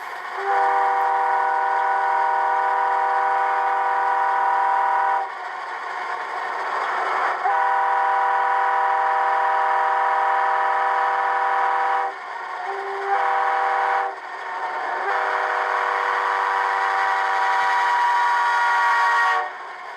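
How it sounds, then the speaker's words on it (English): A model train horn on an HO scale Rapido EMD E9A locomotive, a DCC sound-equipped F5 Doppler horn, sounds in long sustained blasts with brief gaps between them, loud and close, with no talking. "F5 Doppler horn."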